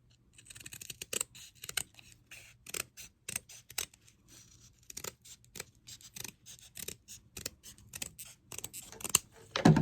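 Scissors cut a small piece of material for craft gnome boots, making a string of close, crisp snips and scratchy rubs in an irregular rhythm that grows denser toward the end, in a quiet room.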